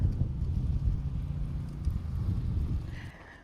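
Gusty wind buffeting a microphone outdoors in an early spring vegetable garden, a low rumbling roar that surges and eases in waves, with a faint brief higher tone near the end.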